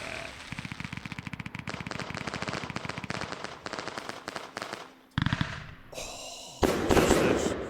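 Fireworks cake launches in the Fireworks Mania video game fire off in a rapid crackling string of shots. Pauses break the volley before louder bursts near the end.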